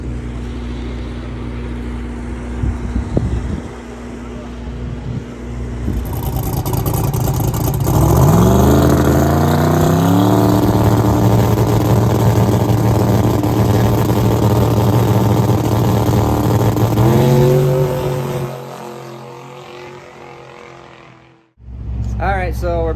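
A drag racing wagon's engine rumbles at idle, then revs up loudly and holds a rising, throbbing roar at the track before cutting off abruptly near the end.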